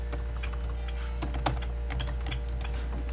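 Rapid typing on a computer keyboard, a steady stream of close, crisp key clicks with an irregular rhythm over a constant low electrical hum.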